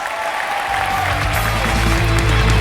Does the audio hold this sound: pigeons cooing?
no